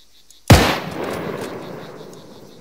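A single loud rifle shot cracks out in the video game Arma 3 during a zombie survival mission on Altis, followed by a long fading echo rolling away over open ground after brief silence.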